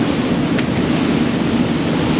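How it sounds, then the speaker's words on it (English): Wind around 15 knots and breaking two-foot waves around a boat at a Hood Canal marina, a loud steady wash of surf with low wind buffeting, continuous and close with no talk. "breaking 2-foot waves"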